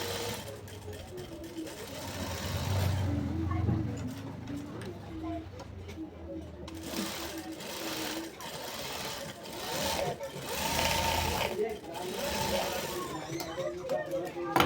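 A sewing machine runs steadily, top stitching a 16-kali one-piece frock, its continuous close whirr filling the whole stretch, with a voice speaking at times.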